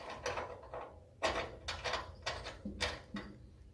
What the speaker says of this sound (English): I'm going to put a tap in here and clean out the threads